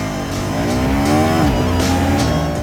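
A 2025 KTM 390 Adventure motorcycle engine revs loudly and steadily close by, its pitch climbing and then dipping a little before holding, with no voices.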